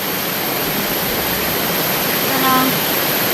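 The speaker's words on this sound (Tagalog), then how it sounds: "Sapa din to." A forest stream flows in a steady broadband rush, close and continuous, with a faint voice briefly heard over it.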